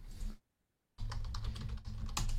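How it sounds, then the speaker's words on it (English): Fast, frantic typing on a computer keyboard, a quick clatter of close keystrokes that stops for a brief silence and then resumes in a dense, uneven burst. "Frantically typing."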